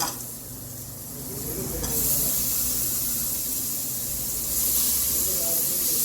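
Salna masala sautés in hot oil for a spicy roadside-style salna, giving a close, steady, loud hissing sizzle that swells briefly before settling and rising again near the end.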